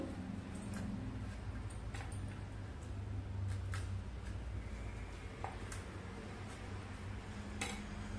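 Seeds being scraped out of halved bitter gourds (karela) in a home kitchen, a steady low scraping with small clinks and ticks of a knife or spoon, close and continuous with no talking.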